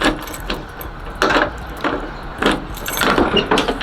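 Metallic jangling and clicking of keys in a Chevrolet box-body car's door lock, with a few sharper clicks and rattles spread through the clip.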